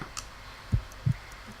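A pair of soft, low heartbeat thumps in the Sherlock Holmes Crimes & Punishments video game, close together and faint against a quiet background hum.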